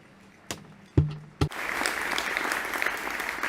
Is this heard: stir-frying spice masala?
no